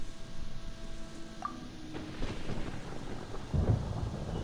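Thunder in the video game Genshin Impact builds into a deep low rumble near the end, beneath a constant hiss of rain and a few faint tonal chimes.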